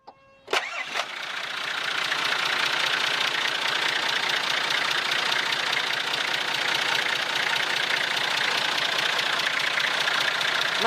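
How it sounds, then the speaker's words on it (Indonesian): A Nissan Patrol six-cylinder diesel engine catches with a sharp start, then settles into a steady, loud, rattly idle that runs evenly and close by until the end. "suara dieselnya Nissan Patrol itu ciri khas banget ya, asik banget"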